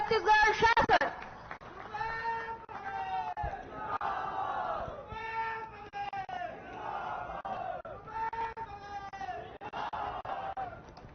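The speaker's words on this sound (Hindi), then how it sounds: "जोरदार तालियों के साथ स्वागत करिए श्री भूपेश बघेल जी" A large crowd cheers and shouts together in welcome for Chhattisgarh Chief Minister Bhupesh Baghel at a public event, a loud burst at the start settling into sustained, wavering massed voices.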